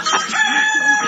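A rooster crowing sound effect, played during a Spanish-language sports talk show: one sustained, loud crow heard close and clear, with no talk over it.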